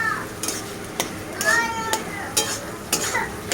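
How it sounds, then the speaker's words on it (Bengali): Onion and chili frying lightly in a pan for a quick pasta dish, with a spoon scraping and stirring in short, separate strokes over a faint sizzle. "এবার পেঁয়াজ আর লঙ্কাটাকে হালকা করে ভেজে নেব"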